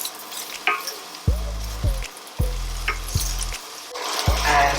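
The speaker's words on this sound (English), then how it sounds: "onions into the pan. What we'll do is put a little bit of cumin." Onions fry with cumin in a hot pan, close sizzling bursts repeating in a stirring rhythm as each toss hits the oil, with a quieter hiss between.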